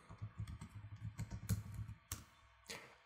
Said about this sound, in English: now we can type Python